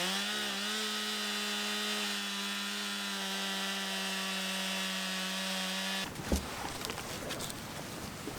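A chainsaw runs close by at a high, steady whine, then bites into wood with a rougher, grinding buzz for the last few seconds.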